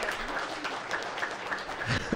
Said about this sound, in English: Let's give God a big round of applause